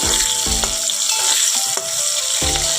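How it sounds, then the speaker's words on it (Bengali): Pointed gourd (potol) frying in oil in a home kitchen pan, a steady close sizzle broken by several soft clinks and stirring knocks, with no talking. "মাঝে থেকে পটল ভাজাটাও হয়ে গেল"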